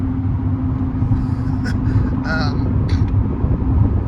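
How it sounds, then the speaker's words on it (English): A car driving along a rural road, its low steady road and engine rumble running throughout, with brief faint higher sounds over it. "You see I'm driving home now."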